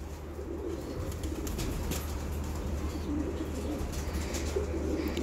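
Pigeons on a rooftop coo in soft, repeated low calls over a constant hum of background noise, with brief wing flutters and chirps mixed in.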